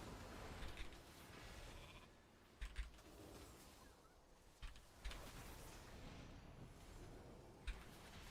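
Sheep bleating from a polymorph spell in a World of Warcraft PvP match, a few faint, short bleats rising out of a steady, quiet game soundscape with no talking.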